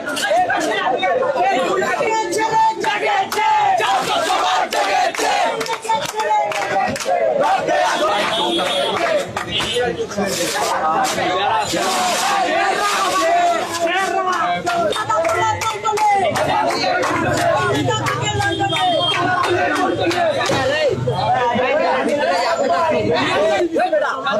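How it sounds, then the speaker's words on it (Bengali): A dense street crowd of students chants anti-BNP slogans, with loud, continuous rhythmic shouting and many overlapping voices throughout. "এই যে বিএনপি বিরোধী নানান ধরনের স্লোগান কিন্তু আমরা তাদেরকে দিতে দেখছি।"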